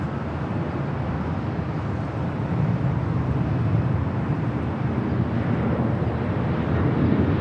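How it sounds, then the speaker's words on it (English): A Southwest Airlines Boeing 737 MAX 8 airliner roars steadily through its takeoff roll at Los Angeles airport, a loud, continuous broadband jet rumble that swells slightly midway and holds strong throughout. "This is Southwest Airlines 2578 taking off to Las Vegas on the MAX 8."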